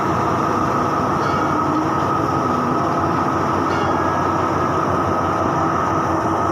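Ordinary passenger train 201, only three carriages long, pulls in at Chum Saeng station with a loud, steady rumble and roar of wheels and engine that lasts throughout, no voices over it.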